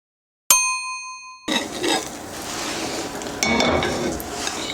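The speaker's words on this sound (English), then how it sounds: "We're gonna cover it with the plate, and then we're just gonna go ahead and flip it without thinking about it." A Spanish tortilla is flipped onto a plate over a pan: a bright ding of ceramic on metal, then a pause and a steady sizzling clatter of the pan and plate being handled, close and without talk.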